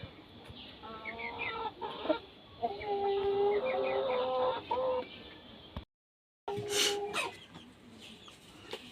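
Tiger breed hens clucking and chattering in short repeated bursts, fairly close, with a brief silent gap before the clucking resumes.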